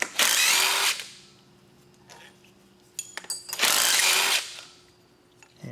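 Power tool spinning out power steering pump bolts on a 2004-2008 Ford F-150 5.4L V8: two loud, close whirring bursts about a second long, separated by quieter ratcheting clicks and mechanical handling noises.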